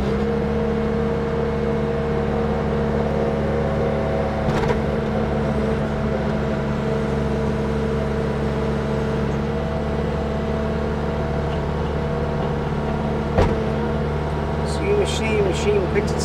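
A 2013 Bobcat S770 rubber-tire skid steer loader with a 92 HP Kubota engine idles with a steady, loud diesel rumble and whir, with a brief clunk near the end.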